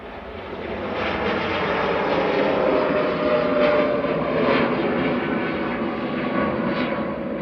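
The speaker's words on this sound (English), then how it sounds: "2EM over to Burgas, 787-9 with flight 2492 for 2E" A six-year-old Boeing 787-9 jet airliner on flight 2492 to Burgas at Manchester Airport gives a steady, loud engine roar that builds over the first second and then holds evenly, with no talking.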